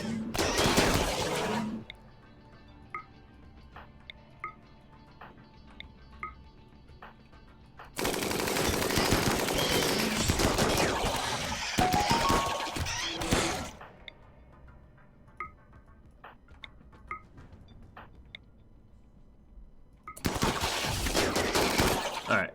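Automatic gunfire in RimWorld as colonists focus fire on giant bugs, with three loud sustained bursts of rapid shots separated by quieter stretches of scattered pings and clinks.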